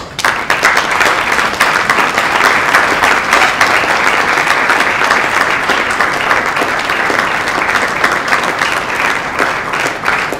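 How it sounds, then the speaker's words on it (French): A large audience applauds steadily at a certificate ceremony in a hotel, dense loud clapping sustained throughout without pause. "Nous allons nous mettre à acclamer durant 30 secondes pour les encourager."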